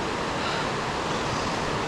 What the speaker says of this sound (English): ahead of us in the river is what's called the Cucumber Rapids